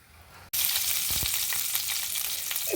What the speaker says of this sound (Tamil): இப்போ நான் கடுகு, உளுத்தம்பருப்பு, கடலைப்பருப்பு போட்டு பெருங்காயத்தையும் போட்டுட்டேன்